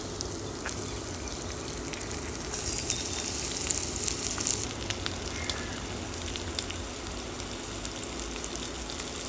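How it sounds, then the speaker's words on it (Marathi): Prawns shallow frying in hot oil in a pan for a Goan recheado starter, a steady dense sizzle and crackle running unbroken throughout with no voices. "आता शॅलो फ्राय करपा लागला आमी हेका."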